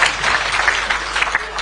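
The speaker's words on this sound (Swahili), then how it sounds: "Makofi kwa former MP." A crowd at a Kenyan political rally applauds a former MP, brief dense clapping close by that lasts the whole short moment, with no one talking over it.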